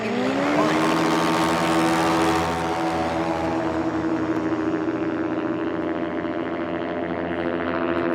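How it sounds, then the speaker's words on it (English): Rotax-powered Kit Fox STOL aircraft at an air-race drag event, its engine and propeller droning in a loud, steady, buzzing tone that rises in pitch at first and then holds, with no talk. "You can hear that engine prop combination"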